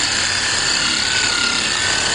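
A power polisher buffing a car headlight at low speed, a steady close whirring drone that holds constant throughout.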